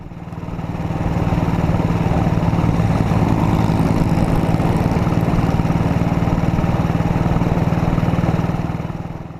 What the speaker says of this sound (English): we get to hear the sporty twin doing what it does best